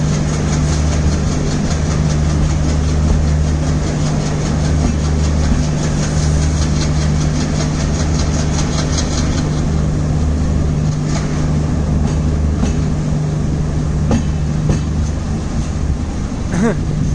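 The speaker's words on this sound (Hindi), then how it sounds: "एक बार ये गुड्स ट्रेन एक बार निकलने दो, फिर दिखा दूंगा आपको।" A goods train passes on a railway track nearby, a continuous loud low rumble and rolling clatter of wagons with wind buffeting the microphone throughout.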